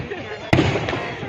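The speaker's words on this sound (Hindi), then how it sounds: "इतनी ज़्यादा भीड़ है, उतने पटाखे छूट रहे हैं" A single sharp firecracker bang bursts out amid a dense crowd at a Chhath Puja festival by flowing water, with steady crowd noise and voices continuing around it.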